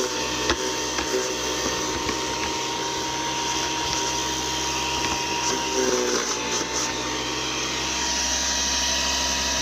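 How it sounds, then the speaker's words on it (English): A Harbor Freight Portland chipper shredder runs loud and steady, a constant motor roar with brief crunching bursts as material is fed through. "So the chipper shredder does work."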